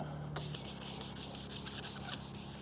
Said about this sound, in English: We're going to keep sanding